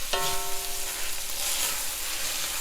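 Meat and tomato puree sizzle in a hot skillet, a steady close frying hiss with a brief clink at the start, alone without talk.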